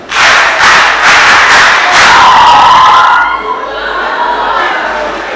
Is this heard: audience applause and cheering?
yes